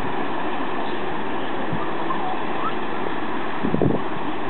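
Low, steady rumble of a passenger train arriving at platform 2 at Basingstoke station, with a few heavier clunks near the end and no one speaking.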